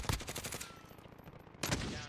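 A battle royale firefight: a quick burst of rapid gunfire opens, then after a short pause a second burst comes. The shots are fairly faint and sound somewhat distant.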